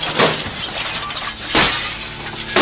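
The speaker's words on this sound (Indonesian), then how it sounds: "merusak pintu dan kaca jendela menggunakan linggis" A crowbar smashes door and window glass in a movie scene, with two loud shattering crashes, one at the start and another partway through, each followed by tinkling debris.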